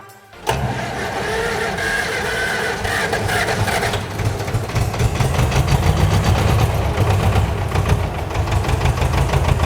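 An old tractor engine cranks and catches after a brief silence, then runs loud and steady with a rough, knocking idle.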